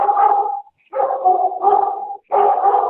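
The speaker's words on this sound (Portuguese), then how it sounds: "Tem um cachorrinho por aí." A small dog barks in three short, loud bursts separated by brief pauses, each a sharp, slightly whiny yap heard fairly close and alone.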